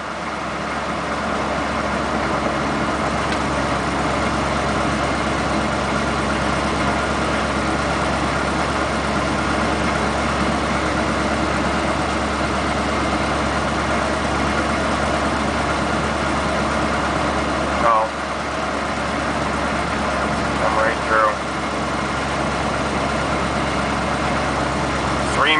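A Chevrolet K30 pickup with a 6.2 diesel and NV4500 gearbox hums steadily just over idle in 5th gear while cruising slowly through town, a constant low droning rumble heard from inside the cab throughout.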